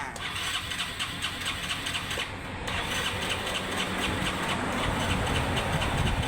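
A Honda Nouveau motorcycle engine starts and settles into a steady, loud mid-pitched idle close by, running continuously with a brief dip early on.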